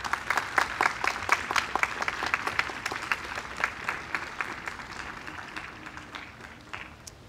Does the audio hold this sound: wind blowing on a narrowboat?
no